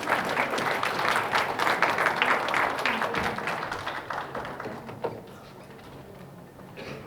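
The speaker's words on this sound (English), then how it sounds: "So please welcome them with a big applause." Audience in a presentation hall applauds to welcome high school students, a dense burst of clapping that gradually thins and fades toward the end, with no talk.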